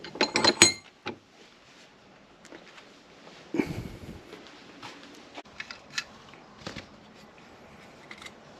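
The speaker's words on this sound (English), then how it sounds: "I'm going to use my snap-on wrench" A Snap-on torque wrench works on a connecting rod bolt in a quiet shop, with a quick burst of crisp ratcheting clicks up front, then sparse scattered clicks and a few soft metallic taps.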